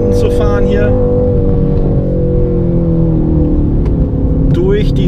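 A 2019 Mercedes-AMG C63 S coupé lapping a race track fast behind another AMG, its engine a loud, steady, sustained drone heard close from inside or on board, with a brief rising note near the end.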